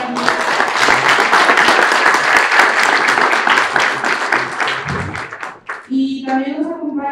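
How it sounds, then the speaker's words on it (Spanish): A theater audience at a documentary gala bursts into loud, dense applause that holds steady for several seconds, then fades as a voice starts speaking at the end. "Un aplauso, por favor."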